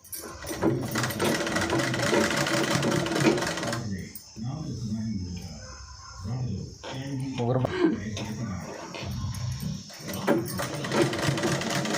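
A sewing machine stitches a folded designer blouse in a continuous whirring drone that stops briefly a few times, while a person talks over the machine.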